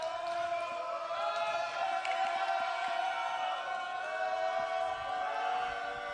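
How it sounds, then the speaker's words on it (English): Crowd noise at a boys varsity high school volleyball senior night match, a steady, loud mass of voices and cheering in a gym that runs without a break under the play. "And the RB crowd messing with Daniel Garfias' head."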